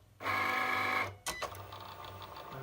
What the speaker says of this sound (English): the machine is now scoring